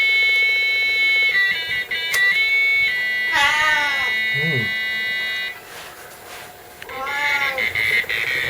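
A cat meows a couple of times, close by, among steady electronic beeping and buzzing tones in a room with an old computer.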